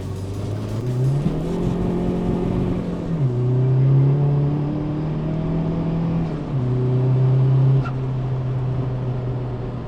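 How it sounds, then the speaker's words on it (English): A Peugeot 306 fitted with a 1.9 TDI PD130 diesel and a big turbo pulls hard in second gear out of a roundabout, its engine drone climbing steadily through two rising sweeps, loud and close, with no talk. "let's see what happens when I put my foot down in second gear"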